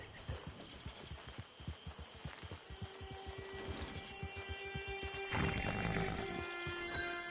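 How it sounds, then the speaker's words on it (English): A horse in the Western video game Red Dead Online, with rapid clip-clop hoofbeats that slow and then give way to a low snort or whinny over faint ambient game sound. "Get your horse."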